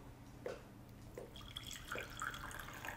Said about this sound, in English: And pour a cup of the old coffee.